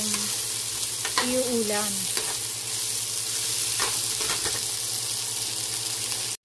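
Cabbage with ground beef and potatoes sizzles steadily in a pan while being stirred, a continuous frying hiss with occasional scraping of the utensil and a brief voice near the start.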